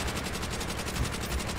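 Rapid automatic gunfire in the World War II shooter Call of Duty: World at War, a dense continuous burst of shots under steady background noise.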